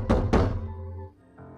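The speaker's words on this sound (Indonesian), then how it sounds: "Terdengar seseorang mengetuk pintu" Two heavy, dull knocks on a door land close together near the start, then fade into quiet room tone.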